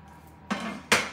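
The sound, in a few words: knife roughly chopping vegetables and onion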